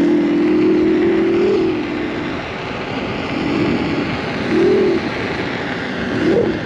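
An InMotion V12 electric unicycle emits its riding tone, a steady hum that rises and falls in a few short swells over about seven seconds, close and fairly loud.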